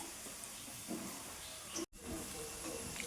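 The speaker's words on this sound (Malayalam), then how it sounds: "ഇനി ഞാനിതൊക്കെ വറുത്തെടുക്കുന്നത് കാണിക്കാം കേട്ടോ" Food frying in hot oil at home, a steady close hiss with faint bubbling crackle throughout and a brief dropout partway, no talk over it.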